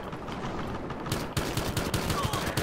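Pistol fire in the video game Battlefield Hardline, an evenly spaced run of rapid sharp shots that starts after a quieter lead-in, close and fairly loud over background game noise.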